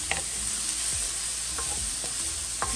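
Onions are stirred and fried in an oiled pan for chicken pot pie, with a constant close sizzle and a few light spatula scrapes and knocks against the pan.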